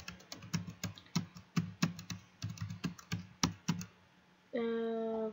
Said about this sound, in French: Tape la commande g++ -c main.cpp.